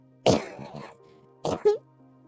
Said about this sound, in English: I heard a lot of coughs